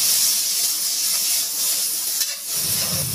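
Chili peppers drop into a hot wok already frying fermented black beans and garlic, giving a strong steady sizzle and hiss with a fresh burst of crackling near the end.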